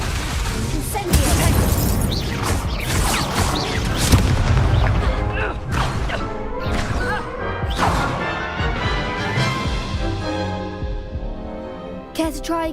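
The Incendio fire spell is cast during combat in the video game Hogwarts Legacy, giving a loud, dense run of fiery blasts, crashes and booms that keeps up without a break and hits harder near the end.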